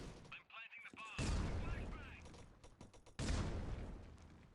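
Rapid bursts of automatic gunfire from the mobile shooter Critical Ops during a tournament match, loud and sustained, with two heavy volleys separated by quieter rattling shots.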